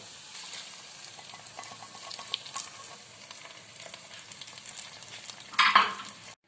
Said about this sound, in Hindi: जब आपका प्याज गोल्डन ब्राउन हो जाए तो तब आपने अपनी निहारी के अंदर उसका तड़का लगा देना है